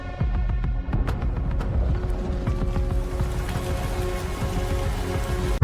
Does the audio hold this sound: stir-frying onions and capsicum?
no